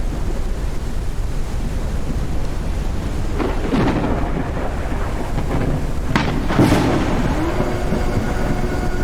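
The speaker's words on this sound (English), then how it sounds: "So far, I haven't really seen too much danger with the storms." Thunderstorm in the Forever Skies video game: steady rain hiss throughout, with two bright rumbling thunder cracks around the middle and near the end, fairly loud and close, no talking.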